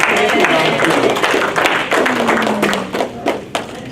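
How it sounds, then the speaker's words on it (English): Attendees at a 2019 benefits meeting clap for volunteers, giving a short burst of scattered hand claps that thins out toward the end, with voices and some talking mixed in. "so let's give our volunteers a round of applause"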